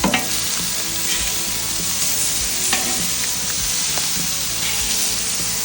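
Blackened striped bass fillets sizzle steadily in a hot pan, a dense continuous frying hiss with a few sharper crackles and pops as the fish is flipped, close and loud with no talking.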